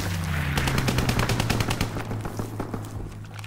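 Strafing-run machine-gun fire in Call of Duty: WWII, a dense rapid burst of shots rattling steadily over a low droning engine hum, loud at first and easing slightly toward the end.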